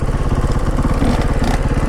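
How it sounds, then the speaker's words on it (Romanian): A KTM EXC 125 two-stroke supermoto motorcycle engine runs steadily up close, a loud, buzzy, rapid-firing drone with no talking over it. "prima motocicletă Supermoto în 2 timp de A1"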